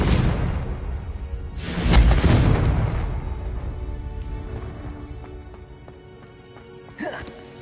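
Confringo blasting spell in a wizarding video game, a single heavy boom that decays into a rumbling tail, followed by a brief whooshing spell effect near the end.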